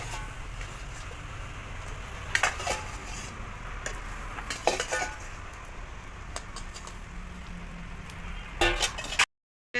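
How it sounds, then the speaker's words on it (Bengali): Fish goes into boiling gravy for a Bengali tel koi curry. A pan simmers and sizzles steadily, with a few soft clinks of utensils against the pot, fairly close and with no talking. "গ্রেভি ফুটে গেছে, মাছ দিয়ে দেবো"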